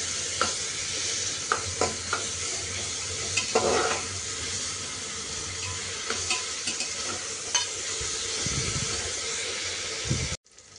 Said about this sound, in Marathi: टोमॅटो चांगला परतून घ्यायचा आणि मग त्यात थोडं मीठ घालायचं